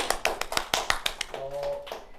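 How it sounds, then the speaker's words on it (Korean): A small classroom group claps hands in a quick, uneven burst of sharp individual claps close by, followed by a brief voiced tone as the clapping fades during a chemistry lesson. "박수!"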